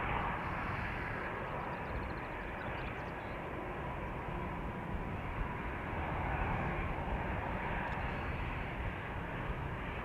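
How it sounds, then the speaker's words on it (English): An Emirates Boeing 777-300 bound for Dubai taking off at Amsterdam Schiphol in gusty wind, heard as a continuous, even, deep jet roar with rumbling low end, fairly loud and steady, with no one talking. "taking off from center right now is Emirates Flight 146. That's a 777-300"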